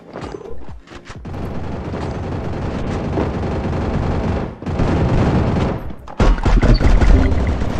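Rapid bursts of MP40 submachine gun fire in a video game, loud and dense, with brief pauses between sustained volleys and heavier booming shots near the end.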